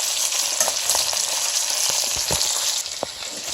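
An Atlantic salmon fillet fries skin side down in a pan over medium heat. It gives a steady, close, broadband sizzle with small scattered pops and crackles, heard alone with no talk.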